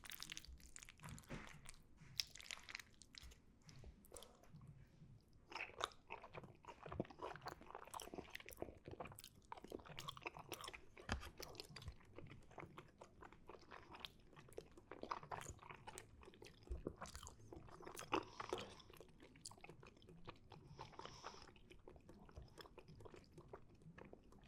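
Close, quiet mouth sounds of chewing Philly cheesesteak mac and cheese: soft wet squishes and occasional light crunches repeat steadily throughout, with no talking.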